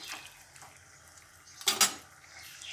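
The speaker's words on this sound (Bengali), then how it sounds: "এবার সুন্দর করে কষিয়ে নিচ্ছি হালকা আঁচে।" Chicken and potatoes are stirred in a pan over low heat, with quiet scraping and a short run of loud metal utensil clanks against the pan, over a faint background hiss.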